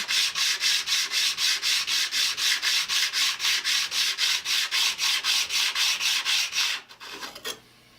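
A hardened Stanley scraper plane blade is honed on 100 grit abrasive in quick, even back-and-forth strokes, loud and close, about three per second, before stopping with a few light scrapes.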